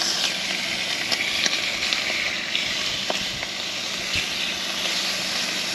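Bacon frying for bacon and egg breakfast wraps, a continuous close crackling sizzle with small pops scattered throughout.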